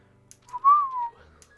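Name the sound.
character whistling to himself in Beacon Pines video game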